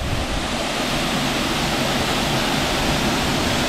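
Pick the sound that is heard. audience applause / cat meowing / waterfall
waterfall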